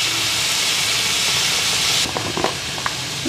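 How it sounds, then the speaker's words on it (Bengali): Tomatoes tipped all at once into a hot pan set off a loud, steady sizzling hiss that fills the first two seconds, then settles into quieter crackling with a few small pops. "টমেটোটাও একবারেই দিয়ে দিলাম।"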